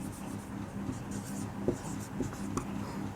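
Marker or chalk strokes on a board during an engineering lecture on reinforced concrete beams, faint scratchy taps and squeaks scattered under a man's ongoing speech.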